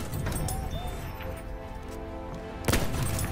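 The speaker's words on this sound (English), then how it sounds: "There's a machine gun." Machine gun fire in the video game Battlefield, dense rapid bursts of shots under busy game noise, with one sharp louder blast near the end.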